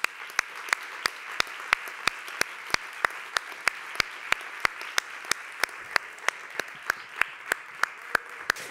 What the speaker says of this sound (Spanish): pido un grandísimo aplauso para ella